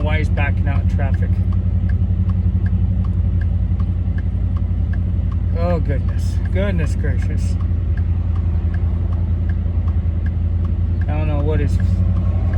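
A vehicle near a truck backs out into traffic, heard as a continuous low engine and road rumble with passing traffic, while someone talks over it at intervals.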